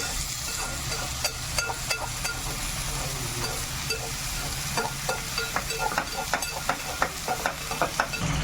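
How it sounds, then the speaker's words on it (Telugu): Chopped tomato stirred into dried shrimp frying in a pan: an even sizzle with a run of quick spoon scrapes and clicks, growing busier toward the end, no speech. "బాగా తరిగిన టమాటా వేస్తే దీన్ని కూడా బాగా కలుపుకోవాలి"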